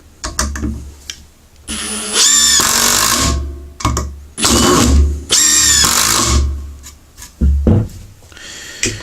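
A newer brushless impact driver fires in several loud, close hammering bursts of a second or so each, separated by short pauses, with no voices.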